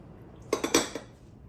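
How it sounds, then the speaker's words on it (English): A few quick metal clinks of a whisk knocking inside a bowl as sugar, flour and baking powder are mixed for an Oreo bundt cake, four short close taps in a row with no talk. "you just want to whisk this together till it's smooth"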